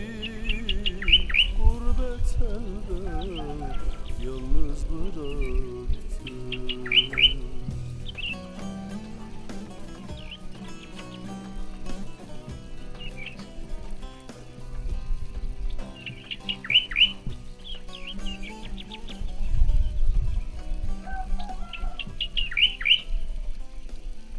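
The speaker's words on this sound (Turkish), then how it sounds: "Ama şu kuşun sesini nasıl çıkardığını öğrenemedim." A bird in Indonesia sings in short bright bursts of chirps and trills, repeating at intervals over low background music and rumbling.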